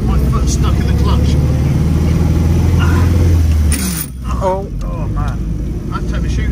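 An Austin 7 engine pulls under load, running on all four cylinders after a sluggish start. It makes a loud, steady, close rumble that eases off near the end, with voices talking over it.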